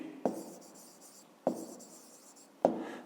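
Marker or chalk writes numbers on paper or a board during a fifth-grade maths exercise; three distinct scratchy strokes start sharply and fade, spaced about a second apart, close and fairly quiet with no talking.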